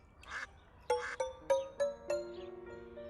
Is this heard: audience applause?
no